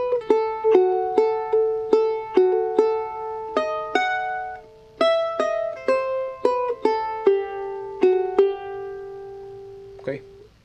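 A charango plays a Bolivian taquirari phrase: bright plucked notes in a lively, bouncing rhythm, clear and close, with no voice, ending on a final strum.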